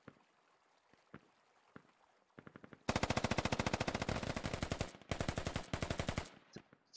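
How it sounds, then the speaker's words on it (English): Sustained automatic gunfire from the video game Squad, rapid rhythmic bursts of suppressing fire lasting several seconds after a few scattered single shots, loud and close. "Suppressing fire takes that guy out."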